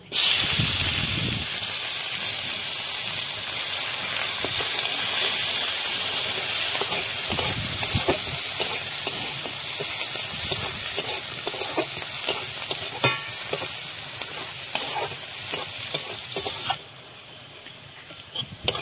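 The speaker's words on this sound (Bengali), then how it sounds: "দেখো আমার পেঁয়াজটা ভাজা ভাজা হয়ে গেছে।" Chopped onion frying in hot oil with cumin, bay leaf, cloves and cinnamon, a loud steady sizzle and hiss with occasional stirring scrapes, then quieter near the end, no talking.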